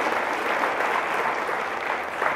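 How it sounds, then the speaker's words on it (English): Studio audience applause for a correctly answered question at an educational talk, a steady dense clapping that fills the whole moment without pause and stays close and fairly loud. "Let's give a round of applause for Bob for knowing the interrupter gear"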